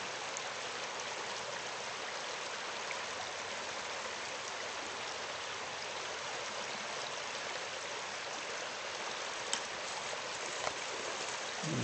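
A salmon creek flows steadily through an autumn woodland, a constant soft rushing and burbling of water with a few faint clicks and no talking.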